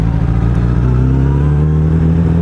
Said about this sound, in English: So I'm riding a Suzuki Bandit 600S.